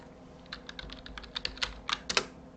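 Quick, light keystrokes tap on a computer keyboard in an irregular burst of a dozen or so clicks, close and fairly quiet over a faint room hum.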